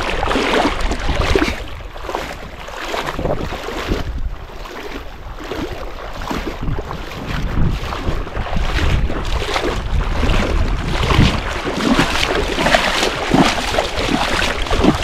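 A steady boat engine rumble churns beneath loud wind buffeting and splashing water, close and continuous throughout.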